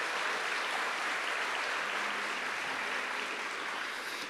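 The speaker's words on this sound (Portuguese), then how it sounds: "Pode aplaudir, pode aplaudir." At a Catholic preaching event, a congregation applauds steadily, heard as an even, fairly faint wash of clapping that holds for several seconds.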